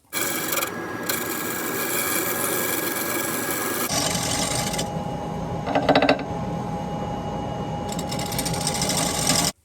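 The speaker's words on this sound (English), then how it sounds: "So hearing that chatter tells me it wasn't completely round" A steady rasping, buzzing hum of a turning tool chattering against an out-of-round segmented white oak and walnut bowl on a lathe, with a brief louder burst midway, continuous and close.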